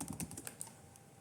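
Keys clatter on a computer keyboard as code is typed into Notepad, a quick run of close, crisp taps over about a second, fading out at the end.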